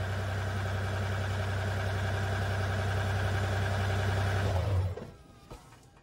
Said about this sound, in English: so we can shut the engine off.